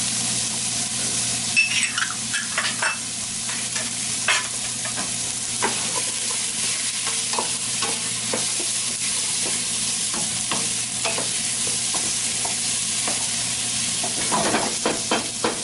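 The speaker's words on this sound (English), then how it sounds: "And I'm going to saute them for a few minutes, the vegetables." Red and green peppers sauté in a pot, a steady close sizzle and frying hiss broken by frequent stirring scrapes and clinks of a utensil.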